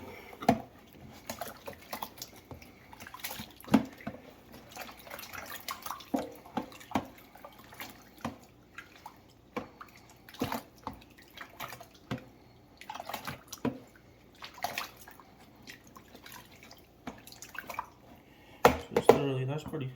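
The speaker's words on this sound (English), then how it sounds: "I'm going to throw it back in there and swish it around a little bit, agitate it kind of like a washing machine" A leather bag swished and agitated in a sink of hot water, giving irregular sloshing splashes and drips across the whole stretch, with occasional louder splashes and some quiet background speech.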